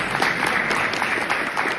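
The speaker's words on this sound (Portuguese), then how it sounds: "Vamos aplaudir um pouco" Applause from an audience at a South American regional council gathering, a steady dense patter of clapping hands lasting the full short stretch at even, moderate loudness with no talk over it.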